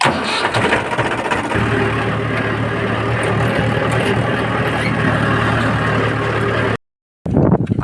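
A 45-horsepower tractor's engine idles steadily up close, a continuous low diesel rumble that drops out for a moment near the end before starting again.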